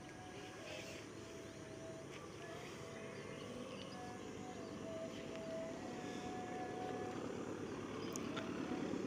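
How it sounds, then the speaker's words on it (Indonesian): A steady low rumble of the Argo Wilis train passing nearby in Indonesia builds slowly and fills the clip, with faint high squeals over the continuous roar. "nah ini sebentar lagi kereta api Argo Wilis"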